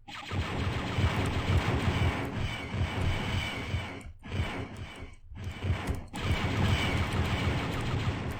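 Loud bursts of gunfire at ceiling turrets in a 1995 first-person shooter game, rapid volleys broken by several short pauses and then resuming.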